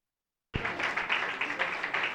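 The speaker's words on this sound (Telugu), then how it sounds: "గట్టిగా చప్పట్లు కొట్టి" An audience applauds loudly at a New Year's Day church gathering, dense clapping bursting in after a half-second of silence and continuing steadily to the end.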